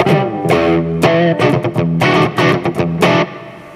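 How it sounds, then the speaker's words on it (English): An electric guitar played through a distortion pedal, loud gritty chords struck in quick bursts with sharp attacks and a buzzy, saturated sustain. "So there it is with one of the distortion boxes on."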